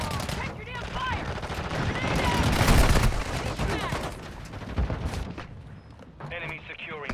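Rapid gunfire and bursts of shooting from the mobile shooter game Warzone Mobile fill a busy match, loud and dense with overlapping shots, under a player's voice talking over the action.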